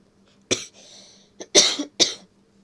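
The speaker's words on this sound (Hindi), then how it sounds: "मेरी खांसी भी किस टाइम पे आई है" A man coughs about four times in short, sharp bursts with small gaps between them, close and fairly loud, with a brief throat rasp in between and no talk.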